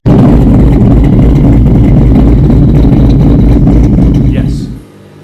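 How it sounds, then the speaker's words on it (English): A loud, rumbling engine idles with an uneven, choppy lope, then cuts off abruptly near the end. "When that exhaust and intake lobe lift is closer at 500, you get some of the chop, chop,"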